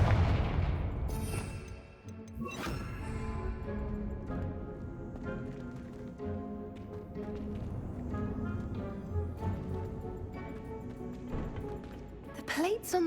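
A Confringo fire spell blasts in Hogwarts Legacy, with several sharp booms and bursts standing out over a dense bed of game music and effects.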